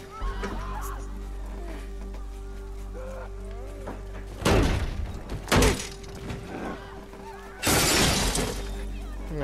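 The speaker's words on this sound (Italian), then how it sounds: "Ecco qui, spacchiamo il vetro, spacco bottiglie" Glass smashing in The Last of Us, with two loud shattering crashes plus a shorter break between them over a steady game-sound hum, while a voice speaks.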